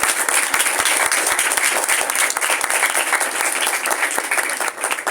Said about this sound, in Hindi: जोर के साथ बाप इब्राहिम के लिए क्या तालियां होनी चाहिए।